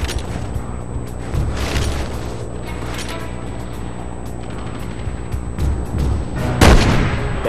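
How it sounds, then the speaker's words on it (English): Video game combat against a tank and a fuel truck, with heavy booming cannon and gunfire blasts repeating over a constant rumbling bed, loud and close, with a bigger explosion near the end. "There's a fuel truck behind the tank! Shoot it!"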